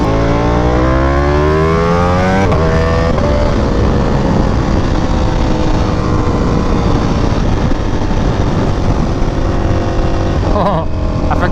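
A Ducati Panigale V4R engine screams loudly and continuously while riding, its pitch sweeping up through gear changes before settling into a steady high drone, with wind roar mixed in throughout.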